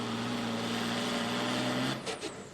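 A Case International Harvester pulling tractor roars loudly and steadily at a tractor pull in Goshen, Indiana, then cuts off sharply and leaves short, fading mechanical bursts.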